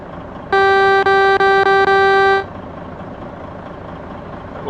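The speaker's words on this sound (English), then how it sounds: "Now, can you hear the truck now?" Truck horn from a truck driving game on the Harsh Russia map, a loud steady multi-tone blast held for about two seconds with brief breaks, then fading into low engine rumble.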